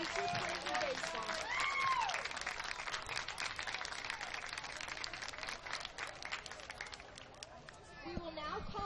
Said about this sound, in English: Let's all give West Volusia a round of applause and wish them a safe trip home